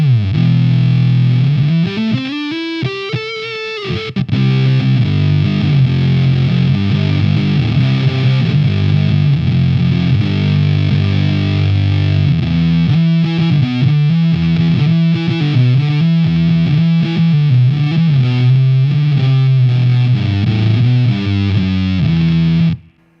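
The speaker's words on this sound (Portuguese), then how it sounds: "E isto é o som de fuzz." Electric guitar through an extreme fuzz pedal, loud and saturated: a bending, swooping note opens, followed by thick fuzzy chords, a short solo line and a chugging riff, all without talk.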